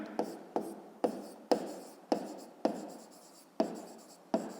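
A red pen writes on paper in repeated strokes, each starting with a sharp tap and trailing off in a scratchy rasp, about eight strokes in a steady rhythm, close and fairly quiet, no talking over it.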